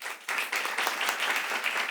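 Audience applause fills a hall, dense and steady for nearly two seconds after a brief quieter opening, with faint voices mixed into the clapping.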